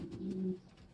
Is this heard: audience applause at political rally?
no